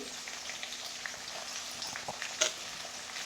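Peanuts, curry leaves and onions sauté in a pan for a puffed rice breakfast dish, giving a soft, steady sizzle with faint stirring taps, fairly quiet throughout.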